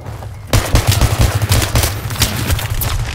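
A basic semi-automatic sniper rifle fires in a video game, its shots loud and close in a rapid, uneven burst after a short quiet start, with several cracks running together over about two and a half seconds.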